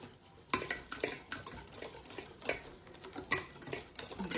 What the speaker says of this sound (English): this, ladies and gentlemen, is how I sift my flour.